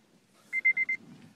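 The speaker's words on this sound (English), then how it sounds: "Sorry about the beeping." Four short, evenly spaced electronic beeps sound from inside a Honda Civic Mugen Si, each a clear tone, close and fairly loud over a quiet cabin background.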